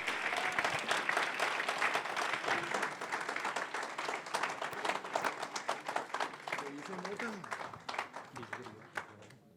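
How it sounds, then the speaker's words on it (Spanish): Warm audience applause at a live conversation event, a dense burst of clapping that gradually thins into scattered individual claps and fades out near the end. "Un aplauso, por favor."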